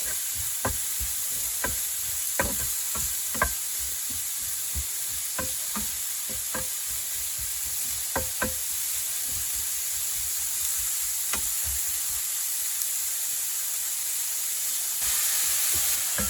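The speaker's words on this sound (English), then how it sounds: "just let that simmer down a little bit before I add the meat" Food simmers and sizzles in a pan inside a camper van, a steady frying hiss broken by repeated sharp knocks of a utensil stirring against the pan.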